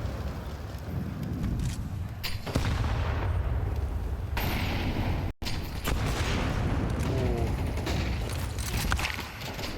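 Grenades and gunfire in Counter-Strike 2 during a BLAST Open London 2025 finals match, with dense, continuous rumbling blasts, rattling shots and mechanical clatter that carry on for several seconds, close and loud.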